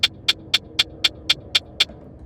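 A drum pattern plays eight evenly spaced, identical hits, each at exactly the same volume, in a steady mechanical rhythm like a ticking clock.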